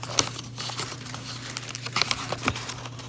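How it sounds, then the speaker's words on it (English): A paper envelope is torn open by hand, with a quick series of crisp crinkles and tears at close range over a low steady hum. "I'm going to go ahead and open that envelope"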